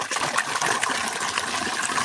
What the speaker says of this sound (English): This is natural water coming from the mountains.